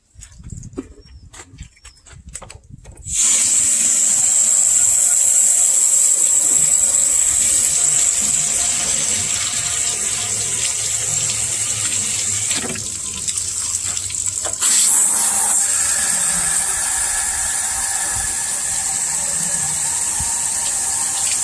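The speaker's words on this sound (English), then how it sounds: "I'm going to give this a scrub, and I'm going to hose it down" Garden hose spraying water across the engine compartment of a 1962 Mercury Comet, a loud steady hiss and gush of water that starts abruptly after a quiet moment and runs on, with shifting splashes as the spray moves.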